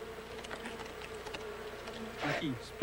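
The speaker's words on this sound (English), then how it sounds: "Unlike the honeybee, these bees do not sting, nor is their hive as geometrically precise." Stingless bees hum from a hive in a split log in the Amazon, a low continuous buzzing close by, briefly swelling near the end before a sudden loud knock cuts in.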